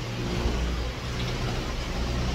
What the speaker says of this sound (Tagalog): Nood muna tayo ng mga sasakyan guys.